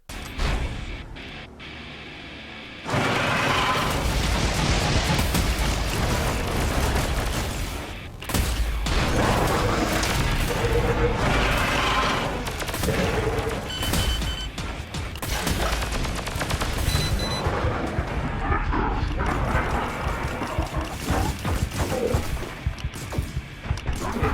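Combat in the VR shooter Evasion on PS4 Pro: dense, loud bursts of gunfire and booming explosions pile on one another almost without pause.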